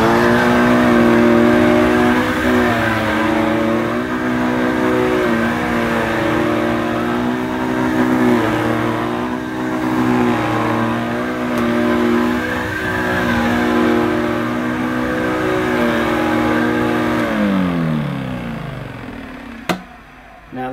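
An Electrolux 502 Super vacuum cleaner runs with a steady, droning motor hum at close range, then winds down in pitch near the end and stops.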